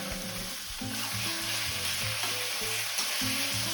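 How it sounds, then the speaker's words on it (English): Pieces of pork fry in hot oil in a pan for Bicol Express, giving a continuous bright sizzle with intermittent stirring and scraping sounds, close and steady with no talking. "Sizzle, sizzle."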